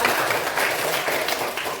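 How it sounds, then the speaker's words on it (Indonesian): Children in an elementary school classroom clap for a group, a short burst of dense, steady applause that fills the room from start to end. "Kasih tepuk tangan untuk kelompok 5."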